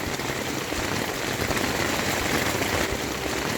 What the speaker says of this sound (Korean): 지금 이 소리는 빗소리입니다. 완전히 폭우가 지금 쏟아지고 있습니다.